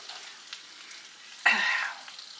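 Fresh uncooked spinach being mixed into homemade venison and egg dog food in a large bowl: faint soft rustling, then one louder, brief wet stirring swish up close.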